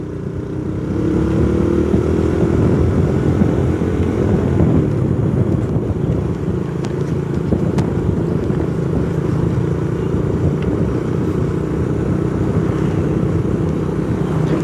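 A motorcycle engine drones steadily while riding on a road toward Cirata in Purwakarta, with heavy wind rumble over the microphone and no break for the whole stretch.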